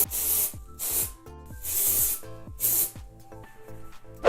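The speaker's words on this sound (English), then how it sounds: "The first thing I'm going to do is spray dry shampoo all in the roots in my hair." Dry shampoo sprayed into hair roots in several short, hissing bursts, close to the ear, over quiet background music.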